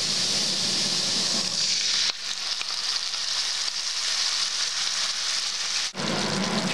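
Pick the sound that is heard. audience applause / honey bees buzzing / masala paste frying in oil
masala paste frying in oil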